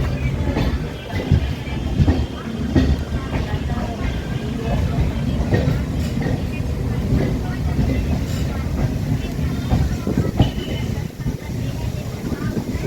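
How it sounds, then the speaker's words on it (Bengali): A Chakrarail circular train runs beside the Ganges near Prinsep Ghat in Kolkata, its steady rumble and rattling clickety-clack heard from on board, loud and continuous, with occasional voices under the noise. "তো গঙ্গার পাশ থেকে ট্রেন যাচ্ছে পুরো"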